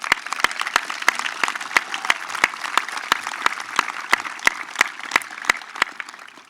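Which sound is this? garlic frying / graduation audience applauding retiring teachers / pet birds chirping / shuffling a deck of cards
graduation audience applauding retiring teachers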